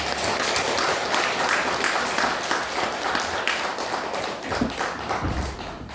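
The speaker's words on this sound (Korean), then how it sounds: "또 축복하고 환영하는 마음으로 박수 하나 드리겠습니다." A church congregation at a Sunday service applauds in welcome of a newlywed couple, with dense sustained clapping from many hands that thins slightly near the end.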